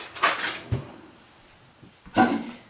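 Lard lye soap mixture being stirred by hand, a utensil clinking and scraping against its container in a few separate bursts, loudest near the start and again near the end, with quiet gaps between.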